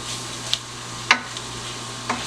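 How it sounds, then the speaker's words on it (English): Flour stirred into butter and onion in a pan for Bajan scalloped potatoes, a few soft scraping stir strokes over a faint low sizzle, close and quiet. "2 tablespoons of flour, and you're gonna stir that very good"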